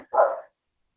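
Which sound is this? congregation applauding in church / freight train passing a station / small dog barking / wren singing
small dog barking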